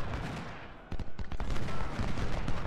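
Massed musket and cannon fire in an Ultimate General: Civil War battle, a dense continuous rumble with irregular louder cracks and booms layered over it.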